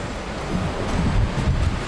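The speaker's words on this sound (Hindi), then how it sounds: "झरने की फुहार इतनी तेज है" Dense, steady rushing hiss of heavy waterfall spray, loud and close throughout, with faint low rumbling beneath and no speech.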